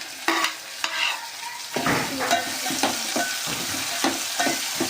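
Chopped tomato fries in a pan with a soft, steady sizzle, broken by a few close scrapes and knocks as it is stirred. No one speaks.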